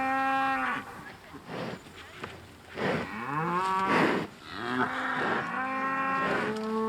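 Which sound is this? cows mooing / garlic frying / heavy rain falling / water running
cows mooing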